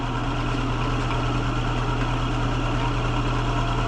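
A wood lathe spins at about 1000 RPM during woodturning, giving a steady, close motor hum with a constant low drone and no speech or cutting bursts.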